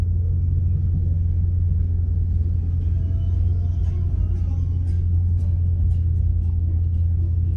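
A loud Ford Mustang GT S197 driving, with a heavy, steady low engine rumble filling the whole stretch from inside the car and faint higher rattles above it.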